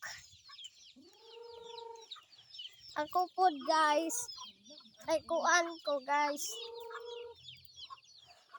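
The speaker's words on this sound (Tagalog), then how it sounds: "magpakaon ako nanay og manok" Chickens cluck and squawk nearby in short bursts while being fed, with a few calls rising and falling, while a person speaks briefly between them.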